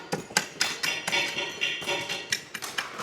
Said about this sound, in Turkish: Şöyle daha keskin bir hale getiriyorlar. Çekiçlerle vurarak